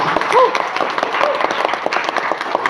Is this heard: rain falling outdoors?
no